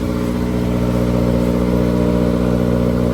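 Honda S2000 engine running on fast idle in neutral after a cold start, a loud steady buzzing hum with an even pulsing rhythm, close and alone.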